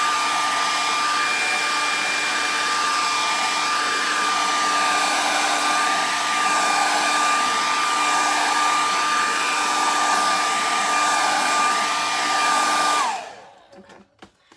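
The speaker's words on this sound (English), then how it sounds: "Okay, blow dryer just to dry up," A blow dryer runs steadily on wet paint to speed drying, a loud, continuous close whir that holds for about thirteen seconds, then cuts off, leaving a few small clicks and handling sounds.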